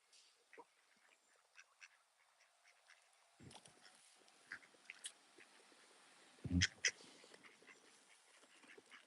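Ducks quacking faintly while being fed outdoors, scattered short calls with pecking and chewing sounds, a louder burst of quacks midway and one near the end, alongside light background noise.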